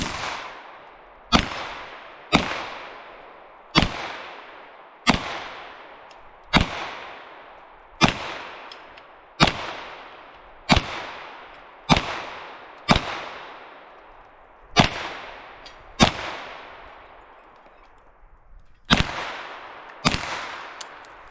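Sharp gunshots from a Marlin Camp 9 9mm carbine emptying a final magazine outdoors, about fifteen loud, evenly spaced reports with ringing decay between them and one slightly longer pause near the end, no talking.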